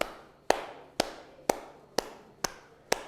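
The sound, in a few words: hand clapping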